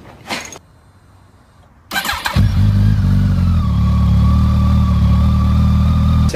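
A motorcycle engine cranks briefly, pauses, then starts and settles into a loud, steady idle close by.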